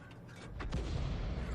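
Artillery guns firing in a tank battle video game, a muffled boom that swells into a rumbling roar lasting through the short moment, with no talking.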